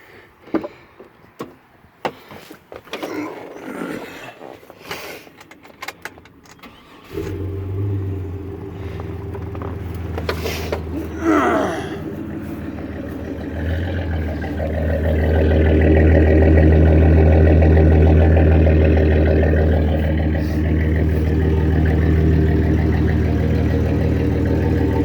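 A pickup truck with factory catalytic converters, stainless exhaust and a Flowmaster 40 Series muffler cold-starts after some clicks and handling, then settles into a deep, loud, steady rumbling idle that swells in level.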